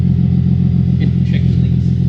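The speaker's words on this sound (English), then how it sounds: "Like a clean rumble. I like the idle." A 2022 Toyota Tundra with a Carven cat-back exhaust idles close by, giving a deep, even, continuous rumble with a steady low throb throughout.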